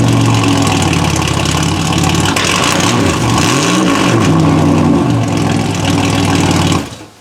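A 1986 Oldsmobile 98 with no exhaust system revs loudly up close, its raw engine roar rising and falling through a couple of swells before cutting off abruptly at the end.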